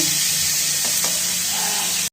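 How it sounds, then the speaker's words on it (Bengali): Cauliflower florets coated in salt and turmeric sizzle steadily in hot oil as they fry to a reddish brown, a close, continuous crackling hiss that runs alone for about two seconds before cutting off abruptly. "নুন হলুদ দিয়ে দিয়েছি ফুলকপিতে দিয়ে ভেজে নেবো লাল লাল করে"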